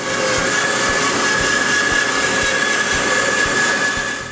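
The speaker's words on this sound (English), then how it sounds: "Then I rip it on the bandsaw." A bandsaw rips a length of birch for a replacement rocking-chair rung, giving a loud, steady, close-up cutting roar with faint regular ticks that runs unbroken for about four seconds, with no talk.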